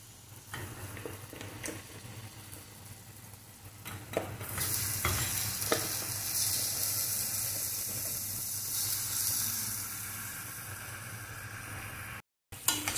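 Washed chicken pieces hit a hot pan for chicken kulambu, setting off a loud, bright sizzle that swells and holds steady, with scraping stirs and soft clatters underneath.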